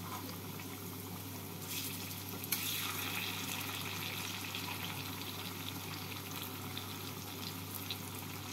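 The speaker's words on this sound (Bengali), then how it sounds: "অল্প অল্প করে কোপ্তা দিয়ে ভেজে নিতে হবে" Raw banana and chhana koftas fry steadily in hot oil, giving a continuous close bubbling sizzle with a brief brighter crackle near the start.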